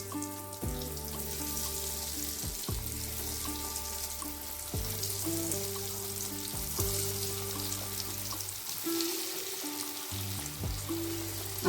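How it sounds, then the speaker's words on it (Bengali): Homemade chicken nuggets frying in oil, a constant bubbling sizzle running under a rhythmic background music track, close and steady with no talking. "এর বাকিগুলো একইভাবে ভেজে নেবো"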